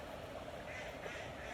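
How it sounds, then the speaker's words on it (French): Ducks quacking, faint and somewhat distant, with a few calls rising out of a steady wash of background noise for under two seconds. "Les canards."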